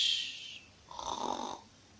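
A person imitates the loud snoring of a sleeping dragon, one slow breath in and out with a rough snore on the exhale, close and unaccompanied.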